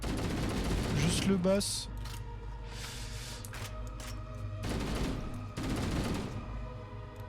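Gunfire in Halo: Combat Evolved, bursts of rapid shots at the start and again later, loud and close, with someone talking over the game sounds.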